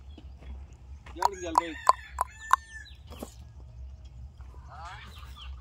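A rooster crows close by, a series of sharp, rising calls over a low rumble of background noise, with a few clucks afterward.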